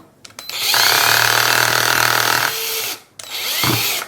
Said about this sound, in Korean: 구멍 2개 뚫으라고 했으니까 얘를 뚫어볼게요